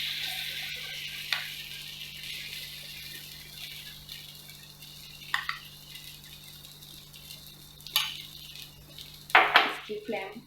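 Suji appe fry in a pan on a lowered flame with a soft, steady sizzle. Occasional sharp metallic clinks and scrapes of utensils and cookware rise above it, louder near the end.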